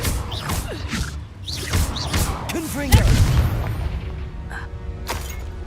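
A Confringo blasting spell goes off in Hogwarts Legacy as a single heavy booming blast near the middle, set among other clattering game effects and faint character voices.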